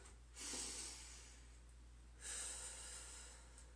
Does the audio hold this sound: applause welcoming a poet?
no